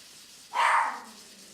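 One short bark from an adult small dog indoors, a single sharp yap at moderate distance against a quiet room.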